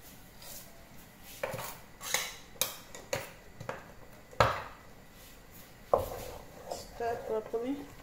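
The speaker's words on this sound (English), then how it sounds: "I'm going to stir properly." Oatmeal being stirred in a pot, a spoon knocking and scraping against the pot in irregular close strokes, with a voice talking at times.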